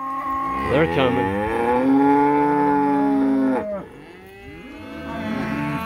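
Cattle moo loudly and close by during a cattle drive to a rested paddock. One long, drawn-out call is followed by a lower, fainter moo, with farm background noise and no talking.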